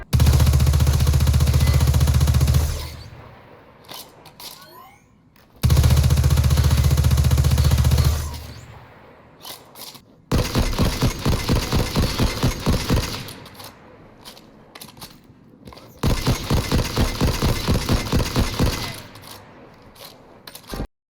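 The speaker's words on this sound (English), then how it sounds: "I will compare the audio from my sidearm to my recluse" Destiny 2 gunfire from the Lonesome sidearm and then the Recluse submachine gun. Two loud sustained bursts are followed by two long stretches of rapid, evenly spaced shots, with short pauses between volleys and no speech.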